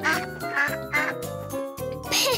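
A cartoon duck quacks repeatedly in bright, nasal bursts, several rapid calls in a row with short gaps, loud and close, ending with a higher squawking flourish.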